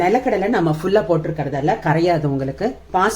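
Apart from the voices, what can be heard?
No everyday noise stands out behind the speech.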